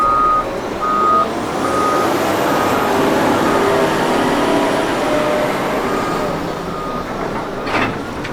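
Hyundai wheel loader backing up at a loading competition, its reversing alarm beeping a few times over a loud, steady engine roar and heavy machinery noise.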